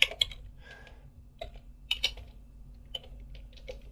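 Typing commands on a computer keyboard while using Kali Linux: quiet, close key clicks in scattered taps and short runs with pauses, over a low steady hum.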